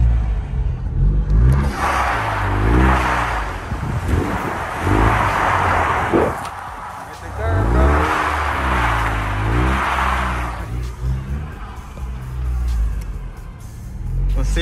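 A Ford EcoBoost car accelerating while drifting on snow, its engine rising and swelling in two long surges with steady road rumble underneath, close and fairly loud throughout.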